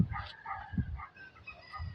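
A dog barks a few times at moderate distance, short yips and woofs spaced irregularly, with no talking.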